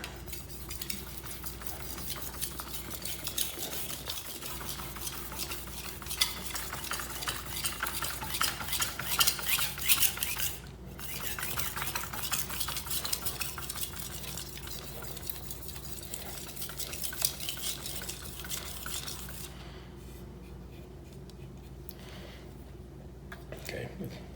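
A medium-grit Rust Eraser block rubs back and forth along a chef knife blade, giving a continuous gritty scrubbing with small ticks, fairly quiet and near, with a voice talking over it.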